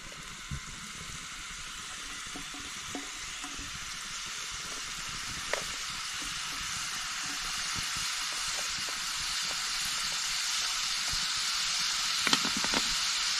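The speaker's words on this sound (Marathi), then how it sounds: "तेलात सोडून घ्यायची आपली शेव." Sweet sev frying in oil over a wood-fired chulha, a steady soft sizzle and hiss throughout with a few faint clicks, gently building toward the end.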